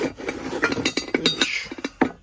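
A two-litre metal saucepan clanks and clinks in a quick, irregular series of close, sharp knocks, with no one speaking.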